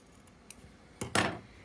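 Fabric overhangs on a half-square-triangle quilt block are trimmed away with a faint tick followed by a couple of quick, close cutting snips, all in a quiet room with no voices.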